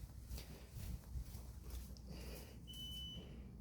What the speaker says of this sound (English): the beep that you hear, there's a garage door, backup battery